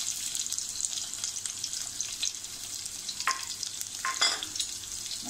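Chopped onion frying with mustard seeds in a pan for a yam masala curry, a soft continuous sizzle broken by close scraping stirs of a spoon against the pan.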